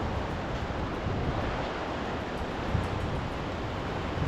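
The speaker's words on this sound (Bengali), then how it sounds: "কোলাহল মুক্ত শান্ত স্নিগ্ধ এই তাজপুর সমুদ্র সৈকত" Surf at Tajpur sea beach makes a constant broad roar of waves, mixed with wind buffeting the microphone and no voices.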